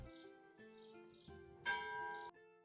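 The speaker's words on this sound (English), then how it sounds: "Bell tower." A church bell tower rings in the Settlement Survival video game, giving a few faint, tonal bell strikes that sustain and overlap over a quiet game backdrop, with a brighter, louder strike toward the end.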